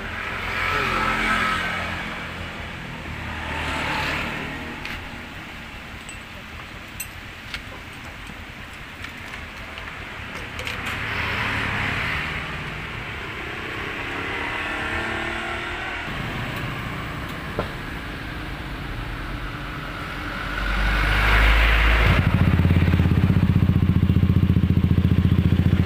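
Yamaha NMAX 155 scooter with an F2racing hexagon long carbon full-system exhaust, a deep rumbling engine that idles and rises in waves before building to a louder, bass-heavy roar near the end, with no voices.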